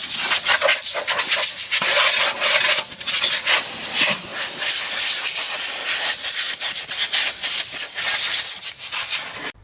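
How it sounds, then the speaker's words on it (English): Compressed air blasting brake dust from the rear brake of an Opel or Vauxhall Vectra C, a series of loud close hissing bursts in quick irregular pulses, separated by brief pauses. "Before I blow out the brake dust"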